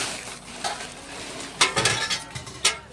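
Brass plate and brass utensils clink and clatter as they are handled, a few sharp metallic knocks bunched in the second half, close and fairly loud with no talking.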